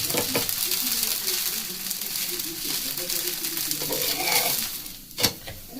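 A thin dosa crisping on a hot tawa griddle gives a steady close sizzle, with a few soft scraping touches and a sharp clink near the end, while someone talks over it.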